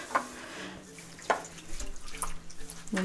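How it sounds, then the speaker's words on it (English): Water runs and splashes as feet are rinsed during an at-home pedicure, with a few sharper splashes over a low, steady trickle; faint background sounds sit underneath. "All right, so now we're going to rinse"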